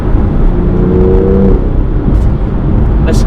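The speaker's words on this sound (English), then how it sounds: "Turbo spools up so quick. There's amazing noises out of the exhaust" A loud BMW M2 engine with a manual gearbox roars and drones up close, with turbo whirs and exhaust rumble filling the cabin.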